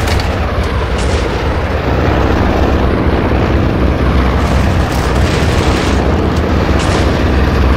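Aircraft attack in the Steel Fury tank game, with loud continuous rumbling explosions and booming artillery blasts over engine drone, dense and close, no talking.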